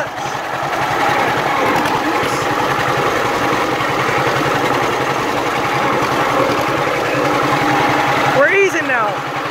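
A John Deere H tractor engine runs steadily with a low, rhythmic chugging as the clutch is let out, loud and close, with a person talking over it.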